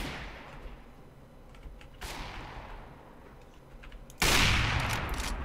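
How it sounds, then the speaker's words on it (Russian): Gunshots in CS:GO, three sharp reports, each followed by a decaying tail, the last one loudest and closest. "Смотрите, сейчас выстрел будет, выстрел."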